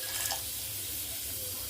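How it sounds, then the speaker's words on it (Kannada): Water poured into a pressure cooker holding pulses in a home kitchen, a steady low splashing stream for under two seconds, fairly faint, with no talk. "ಇದಕ್ಕೆ ನೀರು ಹಾಕೋಣ"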